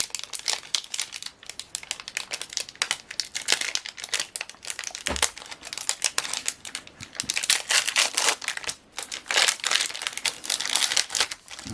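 Crinkly foil wrapper of a Magic: The Gathering Crimson Vow booster pack being torn and crumpled open up close, a busy run of sharp crackles and rustles.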